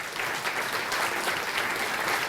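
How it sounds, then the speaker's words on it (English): Steady applause from an audience at a 2019 celebration honouring cardiac arrest survivors, a dense, even patter of many hands clapping, held at a moderate level with no talk throughout. "Can we get another round of applause for our survivors"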